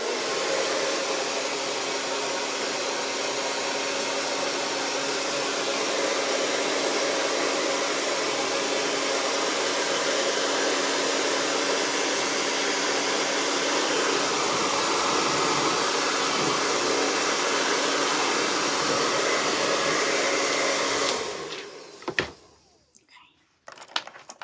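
A hair dryer blows steadily and loudly on a craft project for about twenty seconds as a continuous whooshing roar, then cuts off abruptly, leaving quiet room noise.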